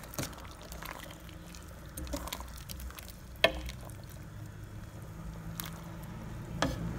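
Southern Thai gaeng nam khoei curry is stirred in a pot, giving a soft, continuous wet swishing with a couple of sharp spoon clacks against the pot, heard alone at close range.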